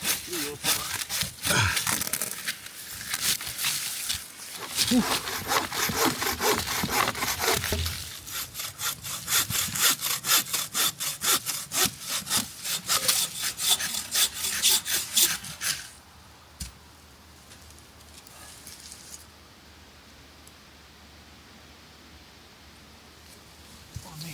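Steady back-and-forth rasping of a hand saw cutting firewood, loud and close for about fifteen seconds, then quieter ambient sound.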